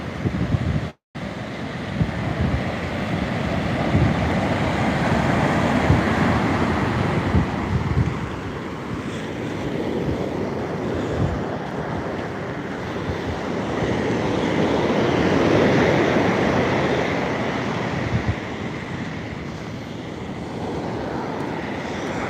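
Surf on an ocean beach, waves building and breaking on shore in a continuous loud wash with slow surges, wind rumbling against the microphone throughout.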